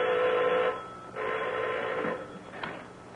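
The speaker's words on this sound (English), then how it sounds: "Get the Van Dorn lab on the phone." An old-fashioned telephone in a 1930s serial rings with two long bursts of bell ringing separated by short pauses, then a brief click at the end, close and clear with no talking.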